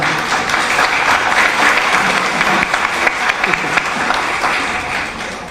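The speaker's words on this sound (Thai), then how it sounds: "ขอเสียงปรบมือหน่อยครับ" Dense, steady applause from a large crowd at a press conference with a Thai SME federation, many hands clapping at once and holding at an even, loud level for several seconds.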